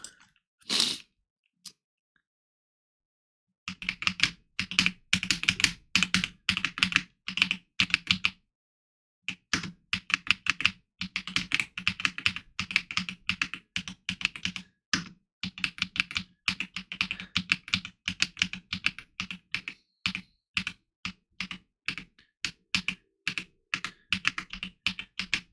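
Rapid bursts of clacking keystrokes on a new mechanical keyboard, close and loud, arriving in irregular flurries with short pauses and no talking.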